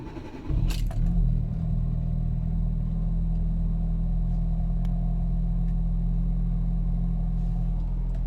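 A Hyundai Getz engine, after a MAP sensor replacement and with the air conditioning off, cranks and catches with a quick burst, then settles into a steady, low, even idle rumble close by.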